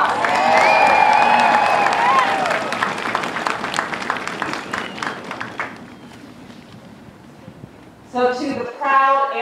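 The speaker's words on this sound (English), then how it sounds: "Let's give them a round of applause." A crowd applauds graduating airmen at an outdoor Air Force basic military training parade on a cold day, full clapping and some cheering that gradually fade over several seconds before a voice resumes speaking.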